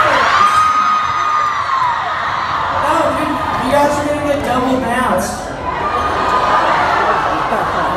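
A concert crowd at a 2019 Portland, Oregon show cheers, whoops and yells, loud and close, while someone speaks over them.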